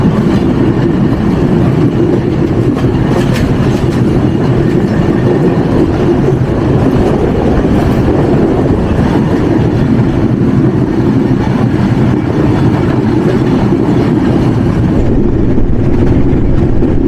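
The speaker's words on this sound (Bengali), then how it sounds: "আমাদের ট্রেন থ্রু পাস করে যাচ্ছে আহসানগঞ্জ রেলওয়ে স্টেশন" From aboard the intercity Panchagarh Express passing through Ahsanganj railway station at Atrai, a loud, unbroken rumble of wheels and carriages roars steadily throughout, with no voices.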